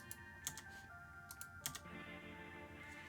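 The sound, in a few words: typing a key on a computer keyboard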